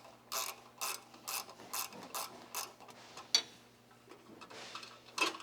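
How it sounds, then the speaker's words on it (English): A 3/8 wrench ratcheting out the bolts that hold the battery shield on a Tilmor tractor, quick bursts of dry clicking repeated in a steady rhythm, close and fairly quiet. "we'll use our 3/8 wrench to remove the bolts that are holding the shield"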